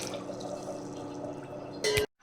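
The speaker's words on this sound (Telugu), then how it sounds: "నేను నీళ్ళు పోసి బాగా వాష్ చేసుకొని మళ్ళీ వాటర్ బియ్యం మునిగేంత వరకు వాటర్ పోసి నానబెట్టుకుంటాను" Water poured over soaking rice to wash it, a steady trickling, splashing stream running close by for about two seconds, ending in a brief louder burst before cutting to silence.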